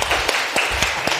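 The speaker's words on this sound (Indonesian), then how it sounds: "Oke, tepuk tangannya." Students clapping together in a classroom during a social studies lesson, a short burst of applause with several sharper claps standing out, close and fairly loud with no talk.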